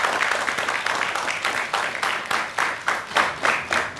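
A studio audience at a TV chat show applauds for the guest Kanmani, dense clapping swelling in rhythmic waves, close and loud, with no voices over it.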